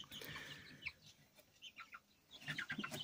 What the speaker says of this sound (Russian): Вот этот, по-моему, петушок выскочил только что наверх.